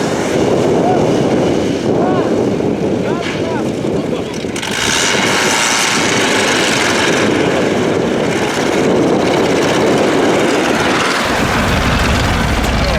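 A GAZ 69 off-road vehicle grinding along a rut over rough terrain, its engine a loud, continuous rumbling drone with heavy wind buffeting, and voices faintly underneath.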